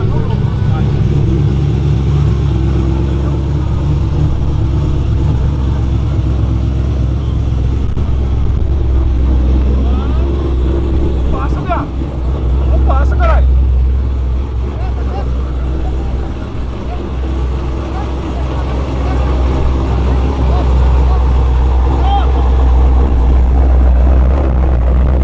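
Several car engines idle and rumble loudly and steadily at a street drag race with a Camaro, a continuous low-pitched drone over about 25 seconds with a brief revving surge near the middle and faint voices mixed in.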